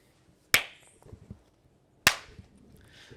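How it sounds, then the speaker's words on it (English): Two sharp, loud hand claps about a second and a half apart, each crisp with a short decay, in an otherwise quiet room. "I'm going to do the 2 claps"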